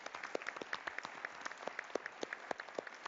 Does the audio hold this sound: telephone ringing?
no